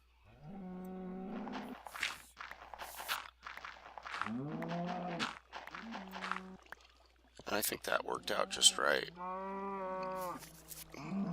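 Cows in Minecraft mooing repeatedly, several drawn-out, tonal bovine calls spaced across the stretch, fairly close and clear, with someone talking quietly in between.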